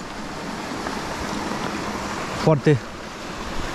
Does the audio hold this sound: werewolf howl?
no